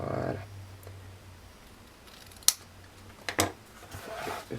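Scissors cutting through thick fabric for a bow, a few sharp snips close by in a quiet room with a faint low hum at the start.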